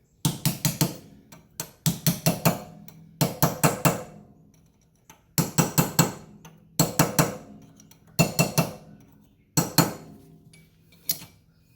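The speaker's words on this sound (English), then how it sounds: "you can use your chisel for this and just bump it around the edge" A chisel tapping a metal wheel dust cap into place on a 2001-2005 Honda Civic rear wheel hub gives sharp metallic clinks in quick bursts of three or four, repeated about seven times with short pauses between.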